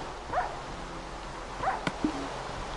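A dog in Minecraft gives short, high whimpering yips, two quick paired cries, then a brief sharp bark near the end, close and clear over a faint steady game background.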